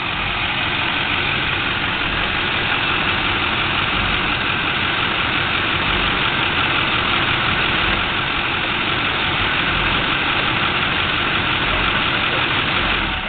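A vehicle engine idles steadily and loudly while stuck on a mountain trail, a continuous low rumble with no voices over it.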